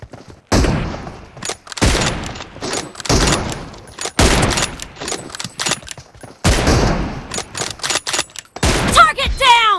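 Sniper rifle fire from a one-on-one team deathmatch video game: a string of loud, sharp reports in close succession, each cracking hard and cutting off quickly, with brief gaps between the shots.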